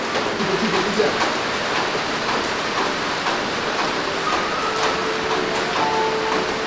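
Steady rain falls throughout, a dense even hiss with scattered drops, heard alone without talk.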